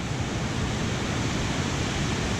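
Water pours over High Falls on Town Creek in Geraldine, Alabama, a constant broadband rush heard from a footbridge, steady and fairly close with no voices.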